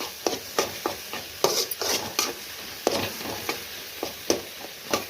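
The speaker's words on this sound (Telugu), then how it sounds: "ఇప్పుడే ఇందులో 2 టమాటాలు వేసి ఇది కూడా మగ్గేంత వరకు కలుపుకోవాలి." Gongura leaves and two tomatoes stirred in a cooking pot for chicken curry: quiet, irregular scraping strokes of a spoon against the pot over a faint low sizzle, close and without talk.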